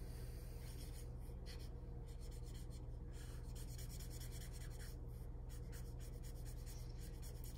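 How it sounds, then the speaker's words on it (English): Alcohol markers coloring fabric on a drawing of a summer tank top: soft, continuous scratchy strokes of the marker tip across paper in quick, steady back-and-forth rhythm, close and faint, with no talking. "when I draw fabric with markers, or I mean color, I do try to kind of move the ink in the direction that the fabric goes"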